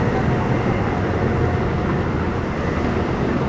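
A roller coaster train at Energylandia climbs its first lift hill, a loud, unbroken mechanical rumble that holds steady throughout with no voices.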